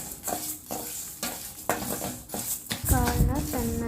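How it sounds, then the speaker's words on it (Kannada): Horse gram being dry-roasted in a pan and stirred, with scraping and rattling of the seeds against the metal. Sizzling comes in repeated bursts, and a voice is briefly heard. "ಕಾಳನ್ನ ಚೆನ್ನಾಗಿ ಹುರ್ಕೊಬೇಕು."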